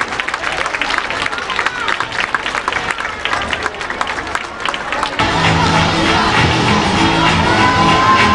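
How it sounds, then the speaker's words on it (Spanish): An audience at a 2017 Andalusia Day event in Cañada gives loud, sustained applause for a children's dance performance, dense clapping that swells into a fuller roar of crowd cheering in the second half. "que se repita ese aplauso a nuestros niños"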